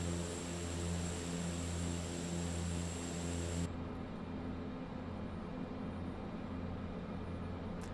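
Propeller airplane engine in Microsoft Flight Simulator 2024, a steady loud droning hum with a sustained tonal whine that cuts out abruptly partway, leaving a lower continuous engine rumble, no voices.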